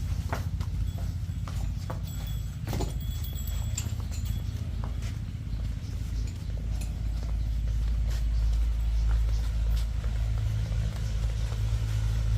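Steady hoof clops from a large buffalo walking over a constant low rumble of background noise, with a few sharp knocks along the way.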